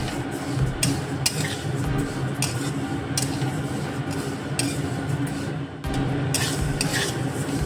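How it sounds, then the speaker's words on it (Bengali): Dal (lentils) frying in a pan as a utensil stirs through them, with a steady low sizzle and repeated scraping strokes across the surface throughout. "পাঁচ মিনিট আমার ডালটা ভাজা হয়ে গেছে।"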